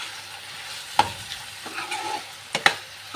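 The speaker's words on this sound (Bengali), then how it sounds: "ভালো করে কষিয়ে নেবো, কষিয়ে নিয়ে জল দিয়ে দেবো" Spiced aloo dum with a little cumin powder sautés in a pan, a soft ongoing sizzle broken by a few sharp spoon scrapes and clacks, close by with no speech.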